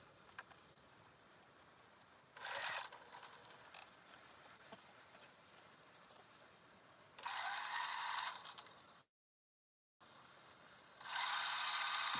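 Home sewing machine top stitching through all the layers of a fabric microwaveable bowl cozy, heard as three bursts of rapid whirring stitching separated by quiet pauses, the last starting after a brief silence.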